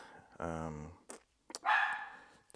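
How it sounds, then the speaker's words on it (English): Dogs barking close by, a drawn-out whining bark followed by short sharp yips and a louder bark, with a few clicks between them. "Sorry about the dogs barking"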